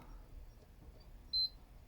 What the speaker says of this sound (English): that's the second beep.